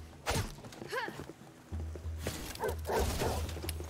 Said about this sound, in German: Ich höre Hunde.